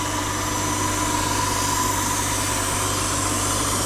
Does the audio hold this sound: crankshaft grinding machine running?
yes